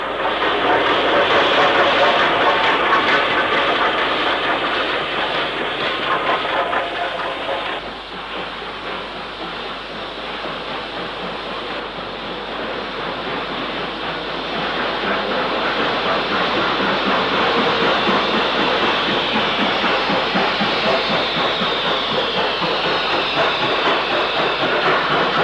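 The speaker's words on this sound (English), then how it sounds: "45390 steams north on another freight" Steam locomotive 45390 hauls a freight train north over Shap, a loud continuous chuffing roar with hissing steam and rolling wagon noise that dips briefly midway, then builds again and holds steady throughout.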